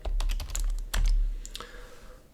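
A computer keyboard typed on briskly, a quick run of crisp clicking keystrokes close up, followed by a few scattered taps.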